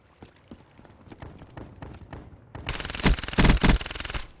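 Rapid bursts of gunfire from a Black Ops III multiplayer match, with scattered single shots building into loud, dense volleys near the end.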